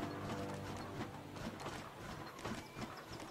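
A gold-laden donkey's hooves clip-clop in the video game Dungeons 2, a quick steady trot under busy game ambience and music, moderately close.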